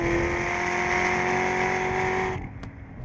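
Corvette ZR1 accelerating hard uphill on a race track, its engine a loud, steady roar with a high sustained tone that cuts off sharply near the end.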